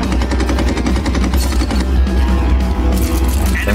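Rapid, continuous machine gun fire from an aircraft in the game Red Wings: American Aces, dense fast bursts that stay loud and close throughout with no voices over them.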